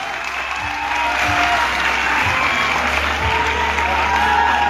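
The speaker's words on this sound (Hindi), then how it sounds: "एक बार जोरदार तालियां हो जाए" Continuous crowd clapping at a coaching-centre welcome event for its director, a thick unbroken rush of applause over a low steady hum, with no pause for nearly five seconds.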